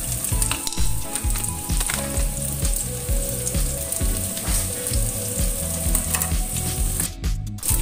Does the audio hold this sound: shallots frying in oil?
yes